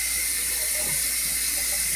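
Tap water runs steadily into a sink as soap is rinsed off hands, a loud, close, continuous hiss and splash with no talking.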